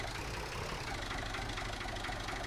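A tractor engine idles steadily in Farming Simulator 19, a continuous low rumble with a faint knocking texture that holds level and close throughout, with no talk.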